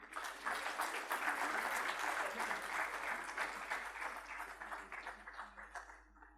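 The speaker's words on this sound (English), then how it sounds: "Can we please have the applause coming on?" An audience at an inauguration event applauds, a thick sustained burst of many hands that swells early, holds, then thins toward the end.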